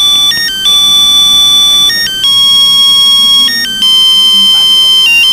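A loud electronic phone ringtone plays a stepped, repeating melody of pure beeping tones, with only faint background noise beneath.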